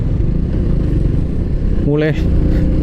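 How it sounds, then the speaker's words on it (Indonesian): A hatchback car passes on a rural road heading toward south Malang, its engine rising briefly near the middle and fading away, set against steady low road and engine rumble from the recording vehicle. "Mobil hatchback arep nang Malang Selatan lewat kene yo."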